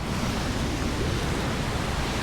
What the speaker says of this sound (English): Oh, big waterfall.